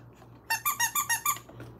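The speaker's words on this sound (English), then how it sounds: "Squeak and play, Mr. Marvin" A squeaky plush pet toy pressed rapidly six times in a quick even burst, each squeak loud, high and close, with no other sound around it.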